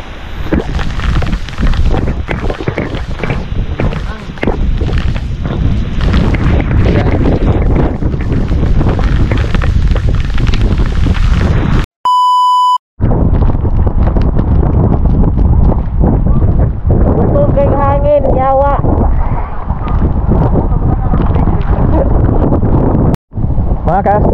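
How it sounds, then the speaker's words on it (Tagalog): Strong monsoon wind roars and buffets the microphone almost nonstop in the mountainous highlands of Santican, Danao, Cebu, with someone talking over it and brief dropouts. "So lakas ng hangin mga ka-asters."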